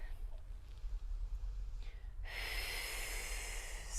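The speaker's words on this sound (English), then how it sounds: "Breathing out 5 times" A forceful breath blown out during a resistance-band glute and abs workout class, one sharp, close exhale that bursts in halfway through and holds steady over quiet room noise.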